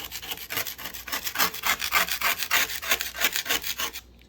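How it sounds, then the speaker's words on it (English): Freeze-dried lime pieces scraped off a tray in quick, rhythmic rasping strokes, close and fairly loud, a steady train of gritty scrapes that stops abruptly at the end. "So I'm going to finish scraping this last one."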